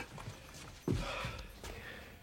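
Hooves of a mare clip-clopping on a hard surface, a few faint, sparse hoof strikes heard close in a quiet indoor setting.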